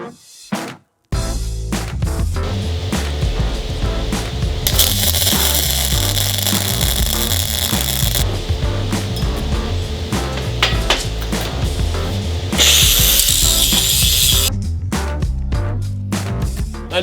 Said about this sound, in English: So let's grind it down and see if we solve some of our porosity issues.